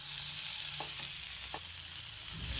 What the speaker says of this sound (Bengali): এবার সব কিছু উপকরণ ভালোভাবে মিশিয়ে নেবে।